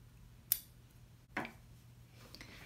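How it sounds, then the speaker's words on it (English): Scissors cut fabric in a quiet sewing room, two distinct crisp snips about a second apart, close and clear, then faint light handling noise. "I think I'm gonna switch over to a better pair of scissors."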